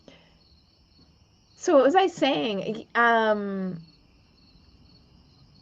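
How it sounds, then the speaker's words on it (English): Crickets chirp outside on a back porch at night, a thin, steady trill running faintly through the whole stretch beneath a person talking in the foreground. "I'm actually outside on my back porch, so the crickets are like serenading us"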